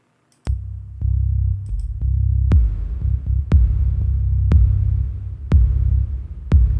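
Bass line in a mix with a high-pass filter applied, playing a steady low rhythm alongside regular, evenly spaced kick-like thumps, loud and close with no voices.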